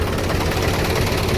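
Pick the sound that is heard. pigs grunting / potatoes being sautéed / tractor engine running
tractor engine running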